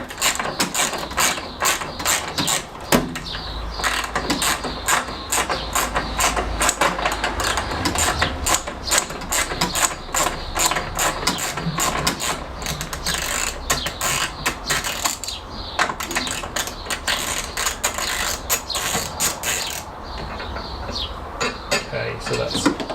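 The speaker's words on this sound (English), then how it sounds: "just going to take our 13s and just undo the straps on each side" A ratchet wrench with a 13 mm socket clicks rapidly while undoing the fuel tank strap bolts on a classic Fiat 500, with bursts of metallic ratcheting and clinks continuing close up throughout.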